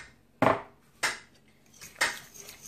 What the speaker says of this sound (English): He's slicing up zucchini